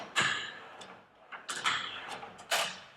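Drawers of a ten-year-old US General steel toolbox sliding open and shut, several smooth rolling glides with soft clunks at the ends, close by and fairly quiet.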